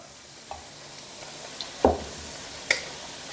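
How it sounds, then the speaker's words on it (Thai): Pork belly frying in its own rendered fat, a faint steady sizzle with a few sharp pops and a stir or scrape of the pan standing out now and then. "ตอนนี้หมูเริ่มเกลียมขึ้นนะครับ และน้ำมันออกมาเยอะเลย"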